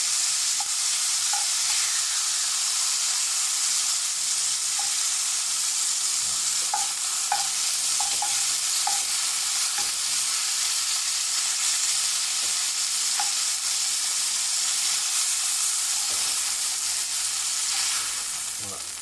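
Perch fillets fry steadily in a pan for a cook of puree de butternut and saffron perch, a continuous loud sizzle with scattered small pops and crackles throughout, no voices over it.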